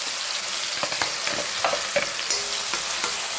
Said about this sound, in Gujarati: ડાયરેક્ટ જ આપણે 3-4 પડી તેલ લઈ લીધું, એમાં ડુંગળી અને ટામેટાં સોતે કરવા મૂકી દઈશું